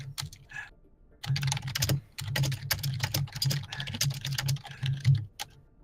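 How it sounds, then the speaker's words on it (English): A name typed on a computer keyboard in quick, uneven bursts of clacking keystrokes, close and fairly loud, with short pauses between runs and no speech. "It feels weird typing White Girl"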